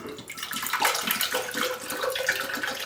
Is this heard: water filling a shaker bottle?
yes